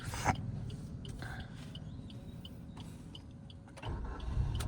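A car's engine starts during a driving lesson. A quiet cabin with faint mechanical clicks gives way near the end to the engine catching and settling into a louder, low running sound.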